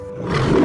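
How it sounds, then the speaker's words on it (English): A lion caught in a hunter's net roars for help, a loud, sustained, close roar that swells over less than a second. "The mouse heard lion roaring for help."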